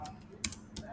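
Keystrokes on a computer keyboard typing a search into a browser, a few quick close taps with a louder cluster midway and near the end, over faint background hum.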